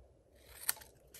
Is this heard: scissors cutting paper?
yes